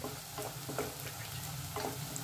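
Whole spices, bay leaf and whole dried red chillies frying in hot oil for veg Kolhapuri: a steady, close hiss and crackle with faint stirring scrapes, no voices.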